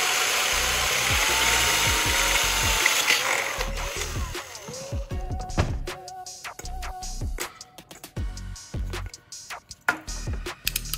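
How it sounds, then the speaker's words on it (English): A loud, steady power drill drills a small hole in the side of a metal can, then cuts off, followed by a series of sharp knocks and handling clatter. "next, I'll drill a small hole on the side as well."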